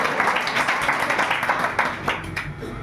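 A church congregation claps loudly together during worship, a dense, continuous burst of applause from many hands filling the room, with faint voices mixed in beneath it.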